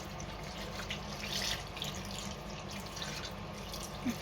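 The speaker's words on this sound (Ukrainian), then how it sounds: "Так, розсіл уже прохолов. Заливаю баклажанчики." Cooled pickling brine is poured over eggplants in a jar, giving a steady close trickle and splash with a faint dripping sound, and no talking.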